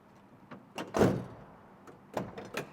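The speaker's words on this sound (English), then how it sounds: "it slides open like a sliding door, or a door, which is very, very cool." A 1970 Chevrolet Chevelle trunk lid gives a mechanical thunk and a short sliding, whirring sweep as it slides open, followed by a few lighter clicks and knocks, close by and fairly quiet.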